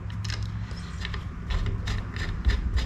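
Small screws are tightened on a GM electronic throttle body injection unit with a clicking driver, a quiet run of light ratcheting ticks over a low steady background rumble.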